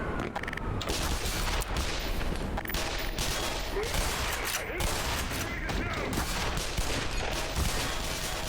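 Rapid gunfire from the player's weapon in the Black Mesa game, a dense, continuous clatter of shots running the whole stretch amid other combat noise, with no clear speech.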